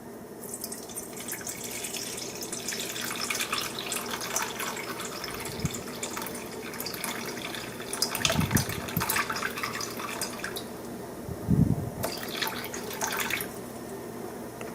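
Distilled water poured steadily into a beaker on a scale, a continuous trickling and splashing stream with a few louder gushes, close and alone.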